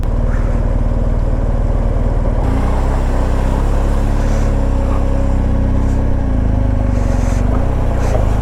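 A heavy 400 kg motorcycle churns through a water crossing on a mountain route in Zanskar, its engine loud and close throughout, with a low rumble that shifts in pitch as the rider pushes through.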